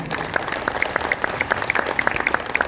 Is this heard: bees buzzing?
no